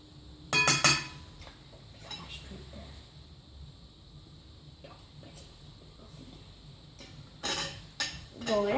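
A spoon clinks against a dish while butter goes into a microwave brigadeiro, with a few bright, brief clinks at the start and again near the end, and a voice murmuring quietly in between.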